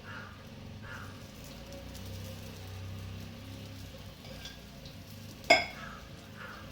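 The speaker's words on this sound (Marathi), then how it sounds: "तर याला आपण थोडं थोडं तेल सोडून घेणार आहे" Mixed dal appe cook in an appe pan with oil drizzled in, giving a soft, steady sizzle and crackle close by, and one sharp metallic clink near the end.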